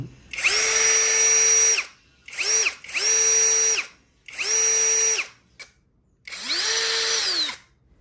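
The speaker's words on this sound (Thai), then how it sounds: "ไปเสียบกับสว่านเลยเดี๋ยวลองฟังเสียงมอเตอร์" A Masaru electric drill motor whirs in five steady bursts, each spinning up, holding a high even whine, then winding down, with brief silences between.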